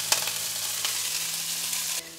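Diced pancetta and frozen petit pois sizzle together in a hot pan, a steady bright crackling hiss with small pops, close and alone, easing off at the end.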